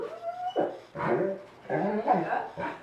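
A dog barks and whimpers close by in a series of excited yelps and whines, several bursts in quick succession, with little background noise.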